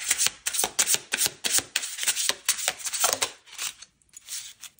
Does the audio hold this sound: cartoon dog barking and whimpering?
no